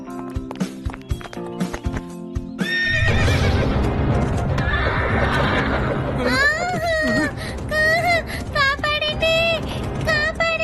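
A horse neighs several times in loud, wavering whinnies, with clip-clopping hooves and people talking amid a lively outdoor scene.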